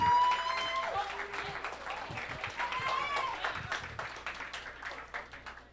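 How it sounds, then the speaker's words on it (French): A crowd at an evening party applauds with dense, continuous clapping, fairly distant, while voices and cheers mingle underneath. "Vous pouvez vous applaudir, oui."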